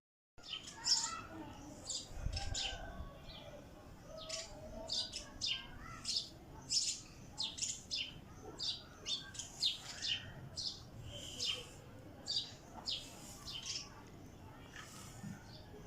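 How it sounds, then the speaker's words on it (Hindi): Small birds on a rooftop chirp and tweet in quick, repeated bursts, fairly faint against a quiet outdoor background, with no talking. "यहाँ पे चिड़ियों की आवाज़ इतनी अच्छी लग रही थी ना"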